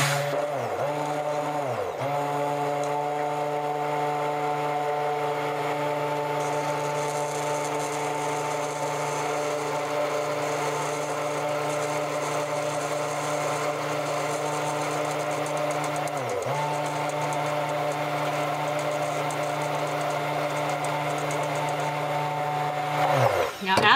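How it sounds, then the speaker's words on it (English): An electric mixer whirs steadily while blending an Argireline eye cream gel, its motor tone holding level with brief dips as the speed shifts, running close and continuous throughout. "As this starts to thicken, you may need to turn the speed up on your mixer."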